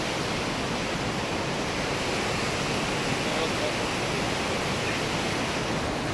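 Jets of water splash and rush in a dense, unbroken hiss that stays loud and steady from start to finish.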